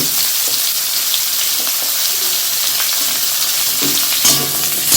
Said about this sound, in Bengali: আলু যেগুলো একটু ভাজতে টাইম লাগবে সেগুলো আমি আগে দিয়ে ভেজে নেব